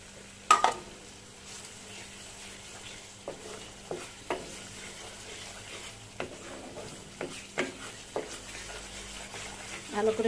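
Spice masala fries in oil for a mutton curry, a low steady sizzle broken by sharp, scattered scrapes and taps of a spoon stirring in the pan, close and fairly quiet.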